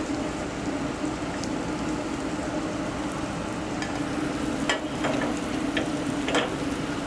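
A blonde roux of flour and fat for beer cheese soup cooking in a pot, giving a steady close hiss and sizzle with a few sharper crackles and scrapes of stirring toward the end.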